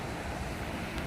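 A strong waterfall in Norway roars close by as a steady, dense rush of water with no breaks and no voices over it.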